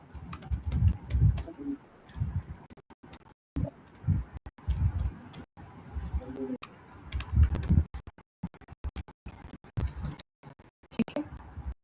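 Names being typed into an Excel sheet on a computer keyboard, soft irregular clusters of key clicks at close range, mostly under a man's speech that runs through much of the scene.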